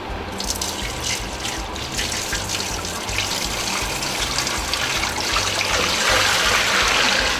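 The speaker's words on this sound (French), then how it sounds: "Maintenant, je vais commencer par mettre l'eau." Water pours steadily into a Trittico Executive Evo pastry machine, a continuous splashing flow that stays fairly loud and close throughout, with no talk over it.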